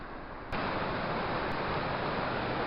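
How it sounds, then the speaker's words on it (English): A whole river forced through a two-foot gap between rock walls near waterfalls, a loud, constant broadband roar that swells in abruptly after a quieter start and holds steady with no voices. "The whole river here funnels through this 2-foot gap here."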